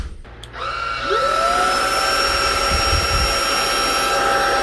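A MooSoo battery vacuum switches up into turbo mode, its motor whine rising and settling into a loud, steady high-pitched roar with a strong tonal hum, close and alone.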